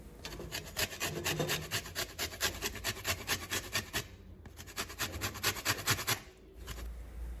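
Orange zest is grated over crêpe batter in quick, rhythmic rasping strokes, each scrape close and clearly audible, with a brief pause partway through before the grating resumes.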